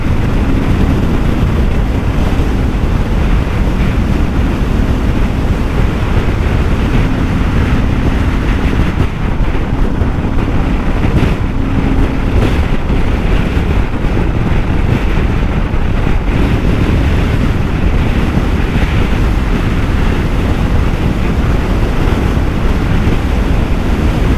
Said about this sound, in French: il y a un vent, mais c'est juste impressionnant